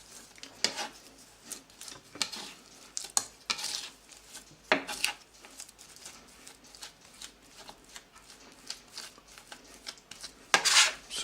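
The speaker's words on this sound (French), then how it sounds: "je vais déjà en premier mélanger, lisser ce praliné avec un peu de crème" Soft, irregular scraping and tapping of a utensil working smooth almond praline paste into a little mousseline cream in a bowl, faint and steady with occasional sharper clicks.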